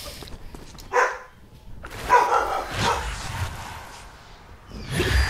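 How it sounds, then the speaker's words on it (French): A dog barks indoors in short separate bursts, a sharp bark near the start, then a louder, longer run of barking and yips, and another bark at the end, moderately close with no talk. "Mon chien qui jappe"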